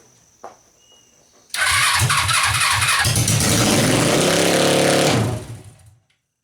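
A Suzuki engine cranks briefly, catches and starts, then runs loud and close with repeated throttle revs before being shut off, a faint click and hum just before.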